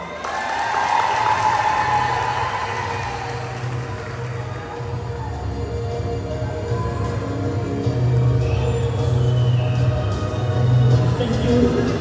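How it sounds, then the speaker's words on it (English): Audience applause for graduates at a ceremony, a steady, dense clapping crowd filling the space throughout, loud and sustained with some murmuring underneath. "Let's give a bigger round of applause for our amazing graduates"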